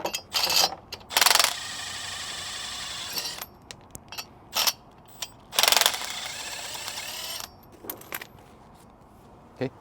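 Ratchet wrench clicking in several quick bursts while wheel spacers are removed from an M416 overland trailer hub being converted from 5-lug to 6-lug, loud and close with short pauses between and no talk.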